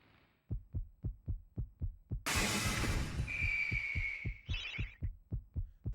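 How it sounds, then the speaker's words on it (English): A demon's heartbeat in a video game throbs in a steady, loud, low double-beat rhythm, briefly overwhelmed by a burst of noise and a high whine before the pulse carries on. "I was so afraid of the heartbeat noise."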